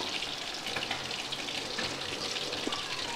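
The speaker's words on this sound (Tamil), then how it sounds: "நான் வந்து இதில் ராஜ்மா வேக வச்ச தண்ணியை சேர்த்துக்கிறேன்." Water from cooked rajma is poured into a sizzling masala pan of sautéed ginger-garlic paste, a steady close hiss and splash with a faint frying crackle and no voices.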